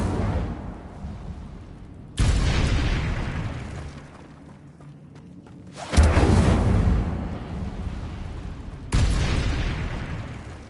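Incendio fire spell cast in the Hogwarts Legacy game: three loud, whooshing fiery bursts, each striking suddenly and then roaring and fading over a few seconds, separated by quieter stretches.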